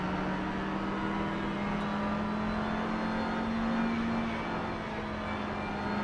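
Steady car engine drone from the racing video game Project Cars 3, a continuous mid-level hum held at a constant pitch without clear revving, with no talk over it.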